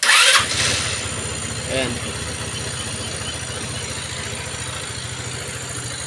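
A Rusi RFI motorcycle being tested for a faulty sidestand sensor starts up with a short crank and then settles into a steady, close idle that keeps running throughout, with someone speaking briefly near the start.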